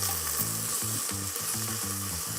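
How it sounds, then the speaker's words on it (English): Vegetables tossed and stirred in a stew pot, a dense steady sizzle with a low repeating tonal hum underneath, loud and close, no voices. "And give it a quick stir"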